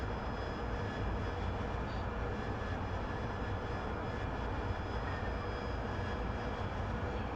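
A steady, broadband jet engine drone from an AV-8B Harrier in a flight simulator, holding at an even, fairly loud level throughout with no breaks and no voices.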